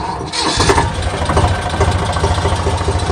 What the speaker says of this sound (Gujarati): ફાઇનલી શેલ્ફ મારી દીધી